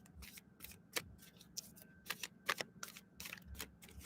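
Tarot cards are shuffled by hand, making a soft, quiet run of crisp riffling snaps and papery flicks in an uneven rhythm over several seconds, with no talking.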